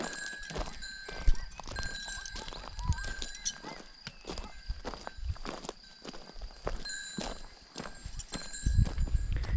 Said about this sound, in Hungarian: Meg vannak békjózó lovak.